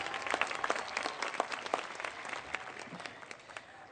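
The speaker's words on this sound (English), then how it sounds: "please clap for her again" An audience at a community college commencement ceremony applauds, a steady wash of many hands clapping in a large space that gradually tapers off, with no speech over it.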